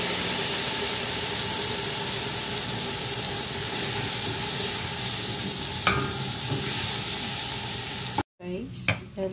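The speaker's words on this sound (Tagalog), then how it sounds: "And hintayin pa natin na mag-brown pa yung sibuyas." Onions browning in a frying pan for chicken kabsa, a loud continuous sizzle with stirring scrapes, then a sharp burst of hiss as water hits the pan near the end.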